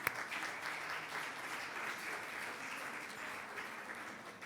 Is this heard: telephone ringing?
no